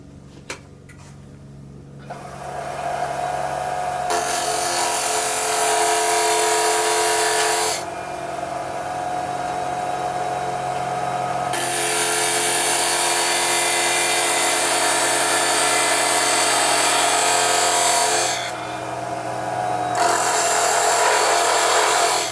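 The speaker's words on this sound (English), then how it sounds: "parting tool, and the idea here is to cut a groove so that that reference is easily seen" A wooden spindle spins on a lathe while a parting tool cuts a groove, giving a loud continuous whirring hum with a harsh cutting rasp that starts and stops in long stretches, close up and without voices.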